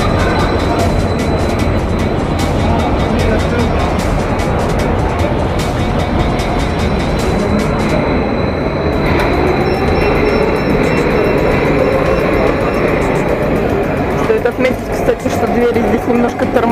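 Metro train rolling into a station on the new third (Zelenoluzhskaya) line of the Minsk Metro, a loud continuous rumble with rail noise and a high whine, steady throughout and shifting near the end as the train slows.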